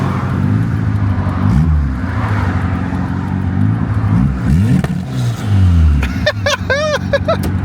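A racecar engine running on ethanol blend revs up and down repeatedly, loud and close, with rising and falling sweeps and rough burbling between pulls.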